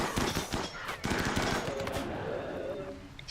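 In the RimWorld video game, enemies fire on colonists with rapid, loud bursts of gunfire that keep coming almost without a break.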